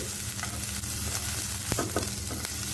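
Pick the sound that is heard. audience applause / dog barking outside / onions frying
onions frying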